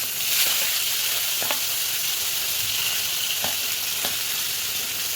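Onions frying in hot oil with a bay leaf in a pan for chicken kosha, a steady close sizzle with a few scraping stirs and clicks throughout.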